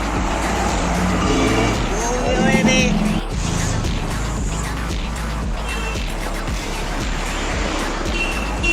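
A BMW S1000 RR superbike passing on a busy Mumbai street, a loud engine roar amid traffic noise, with people talking nearby over the vehicle sounds.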